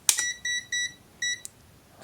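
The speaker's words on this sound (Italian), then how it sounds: "Fa 3 bip, bisogna cercare sul manuale che funzione ha questo." A Ziboo 17B digital multimeter, a clone of the Fluke 17B, gives three short, clear electronic beeps in even succession after an initial click, close and isolated in a quiet room.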